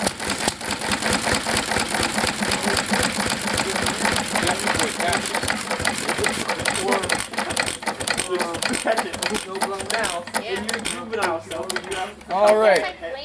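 A McCormick Deering M tractor engine runs with a rapid mechanical clatter and ticking that grows uneven as it shuts down. A voice talks over the engine near the end.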